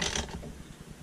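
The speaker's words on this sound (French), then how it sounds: "Vous reprenez votre douille pour serrer la roue arrière." A socket wrench ratchets while tightening the rear wheel of a motocross bike, giving a run of rapid mechanical clicks close up that follows a brief louder clatter.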